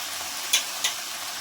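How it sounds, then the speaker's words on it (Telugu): Gongura leaves frying in a pan over medium heat for Andhra gongura pachadi, a steady soft sizzle with two brief sharper crackles or stirs near the middle, close and moderately quiet. "మీడియంలో పెట్టి గోంగూర బాగా యాగనివ్వండి."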